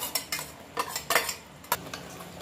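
A spoon stirs fried onions into a pan of kara chutney, scraping and clinking against the metal in a run of uneven strokes over a faint sizzle, with no talking.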